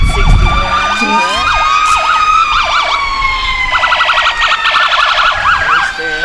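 Cumberland County Fire Department 61 fire truck from Crossville in a Christmas parade, blasting a loud wailing siren that switches to rapid yelp bursts, close by, with a horn blast and crowd noise.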